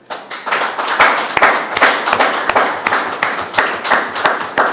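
A crowd claps steadily in sustained applause at a meeting as reports are adopted by acclamation, many hands together, loud and close, with no one speaking over it.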